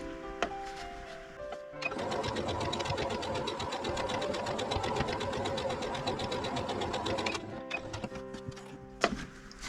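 Sewing machine stitching patchwork fabric for a log cabin block, running in one steady, close, rapid stitching burst of about five and a half seconds, set between quieter handling sounds and with no talking.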